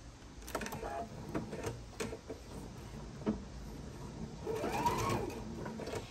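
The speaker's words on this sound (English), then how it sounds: "we're going to sew a scant 1/4 inch straight down through that bottom" A sewing machine runs a scant quarter-inch straight seam on a Noel tree skirt, a continuous close mechanical chatter with rapid needle ticks and a brief louder stretch near the end.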